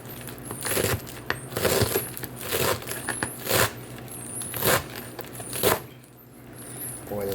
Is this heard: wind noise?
no